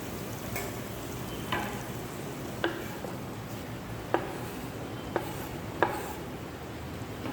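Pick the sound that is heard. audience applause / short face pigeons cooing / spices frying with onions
spices frying with onions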